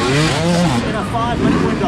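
Enduro motorcycles race around a Super Enduro X qualifying course at Monte Casino, their engines droning steadily and loudly throughout the brief moment, with a voice talking over the noise.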